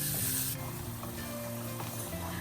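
Chopped ginger, green chilies and curry leaves fry on a low flame with a soft, continuous sizzle and crackle, steady and close, with no talking.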